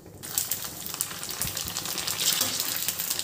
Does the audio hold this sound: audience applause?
no